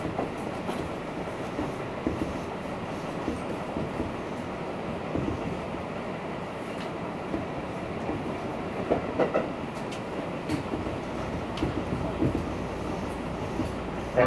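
A Tobu Tojo Line train rolls along with a steady low rumble and faint rhythmic clatter of wheels, heard from inside a carriage at moderate volume as it nears its terminal stop.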